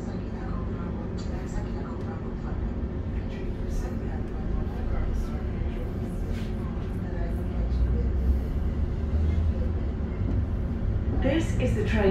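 An Arriva Rail London Class 710 electric train, unit 710260, rolls between Barking and Gospel Oak with a steady low rumble inside the carriage throughout.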